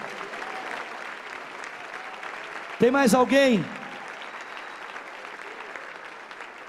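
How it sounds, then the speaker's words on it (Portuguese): A church congregation at an evening worship service applauds continuously, a steady mid-level clapping wash; partway through, a voice briefly speaks over it, then the clapping carries on. "Vamos aplaudir esse querido que está chegando."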